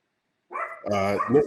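Dogs bark in a home during an online networking call, sharp yips and barks bursting out close by after a brief silence and running on through the rest of the moment.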